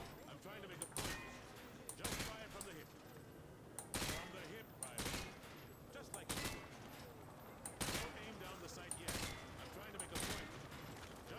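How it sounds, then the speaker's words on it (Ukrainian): Repeated sharp gunshots from Call of Duty: Modern Warfare 2 gameplay in short bursts, crisp and close, spaced every second or two over a low background, with a voice speaking between shots. "Стріляємо."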